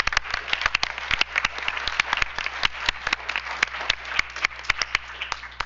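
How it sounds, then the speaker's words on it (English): Applause at a school board business meeting, with distinct, uneven claps from a modest group, crisp and fairly close, continuing steadily without talk. "Let's give them a round of applause."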